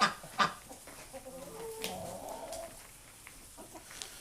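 Backyard chickens cluck softly at a moderate distance, with a few sharper calls near the start and a low murmur of fowl continuing after, no one speaking.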